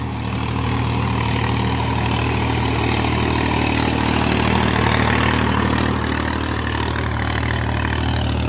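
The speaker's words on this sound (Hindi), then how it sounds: "एक बार देख लीजिए ये आ गया आपका सोनालिका DI-50, इसका पूरा होगा तीसरा चक्कर इस बार।" A Sonalika DI-50 tractor engine runs steadily on a farm field, a loud, close, constant low diesel drone with no talk over it.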